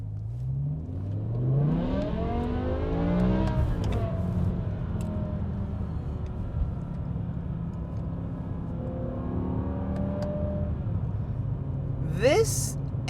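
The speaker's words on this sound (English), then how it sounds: "This engine sounds so good." A 2006 BMW M6 engine revs up and down while driving, rising and falling in pitch, with a voice talking over it throughout.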